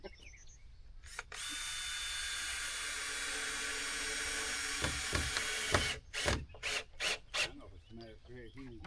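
A power drill drives screws into wood while a box blind is being built outdoors, with a long, loud, steady whir followed by several short, stuttering bursts and people talking nearby.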